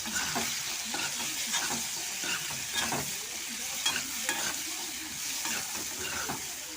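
Onion and dried fish stirred in a frying pan, a steady close sizzle with repeated scraping strokes of the spoon throughout, no voices.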